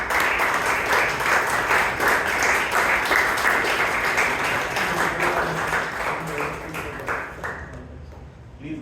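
Dense, steady applause from an audience at a Bangalore Toastmasters club meeting fills the room for nearly nine seconds, holding loud and even before thinning slightly at the end.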